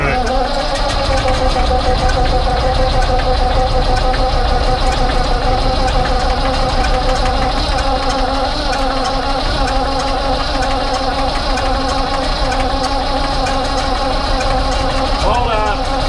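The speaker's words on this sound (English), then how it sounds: "Hopefully this cranks over faster than the first time we tried to start this." A combine's diesel engine, just repaired after a head gasket fix, runs loud and steady at close range with a rough, knocking rumble throughout.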